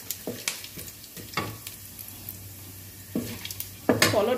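Fish masala spices hit hot oil in a pan, giving a low steady sizzle broken by several sharp stirring scrapes and clinks.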